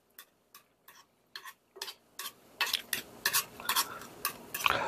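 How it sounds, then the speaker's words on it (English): Spoon working through rice and milk for a Myanmar countryside-style rice milk, soft scraping strokes that start sparse and quiet, then speed up into busy, closer clinks and swishes. "Mix together."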